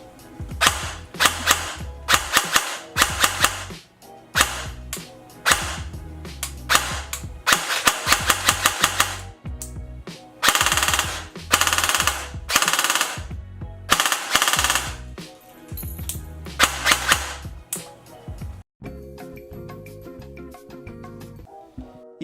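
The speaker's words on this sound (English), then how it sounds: "The gun has a short trigger pull and a pretty snappy response due to its built-in MOSFET." A King Arms PDW airsoft AEG with a built-in MOSFET, running on an 11.1 LiPo battery, fires loud rapid bursts of rattling full-auto shots with short pauses between strings, heard alone without talk.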